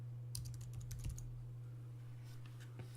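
A few quick keystrokes on a computer keyboard as a project name is entered, soft and close over a steady low hum, with a short burst of taps followed by a pause and one last tap.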